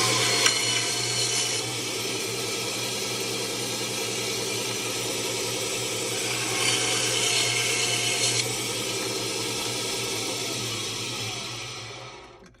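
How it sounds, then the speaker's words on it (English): A mini bandsaw cutting through multi-strand copper wire: a steady loud motor whine with a grinding, buzzing cut running for about twelve seconds before winding down at the end. "I am using the mini bandsaw to cut mine off"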